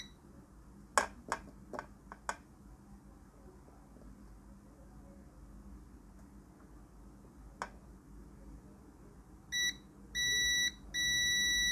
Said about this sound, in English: Can you hear the buzzer itself?